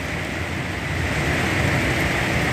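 Heavy rain pours down during a summer thunderstorm, a dense, even roar of falling water that holds steady and loud throughout, with no voices.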